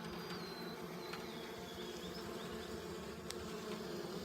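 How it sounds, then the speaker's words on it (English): Honey bees fanning at the hive entrance just after a tube package installation, a low continuous buzzing hum heard close and soft with no talk over it. "They're already fanning, letting everybody know where the queen is."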